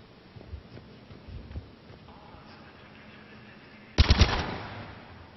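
A gun fires in the shooting range of the video game Mass Effect 3, one short loud burst of shots near the end after a quieter stretch of game ambience.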